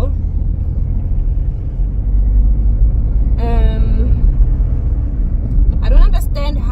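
A car's low engine rumble and road noise hum steadily from inside the moving vehicle while someone talks over it.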